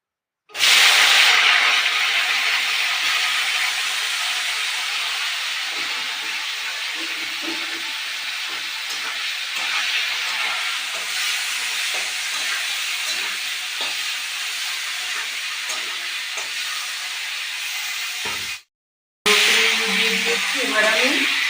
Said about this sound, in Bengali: প্রথমে আমি ব্রককলিগুলোকে দিয়ে দিলাম।